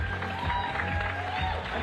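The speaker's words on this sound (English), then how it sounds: "Please give a round of applause for Jessica" Audience applause at the British Bouldering Championships 2023 semi-finals after a climber tops a boulder, a steady wash of clapping lasting the whole stretch with arena ambience and a faint tonal hum underneath.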